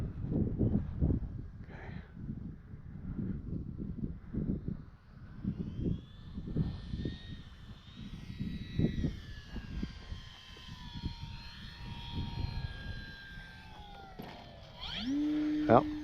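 An Arrows RC Bigfoot model airplane flies and lands with a thin, wavering motor whine, faint and distant, beneath ongoing talk outdoors.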